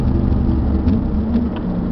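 Car at speed after reaching 160 km/h, heard from inside as a loud steady rumble of engine and road noise while braking, with no talking.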